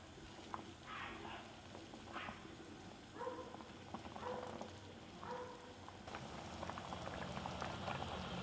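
Pork pieces and rinsed broken rice boiling in water for congee, a continuous soft bubbling and gurgling, faint and close, with occasional light clinks and no voices.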